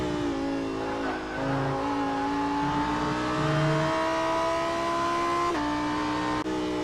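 Onboard engine note of the number 66 Lamborghini STC race car lapping Laguna Seca, a loud, steady high-revving drone whose pitch climbs through the gears with brief shift breaks, with no voices.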